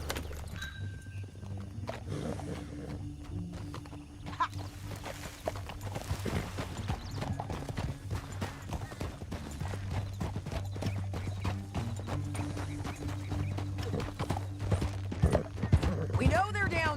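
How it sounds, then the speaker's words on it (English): Horse hooves clip-clop at a gallop in Red Dead Redemption 2, steady rhythmic beats over a low rumbling game soundtrack, with a short whinny near the end. "Get back on your horse."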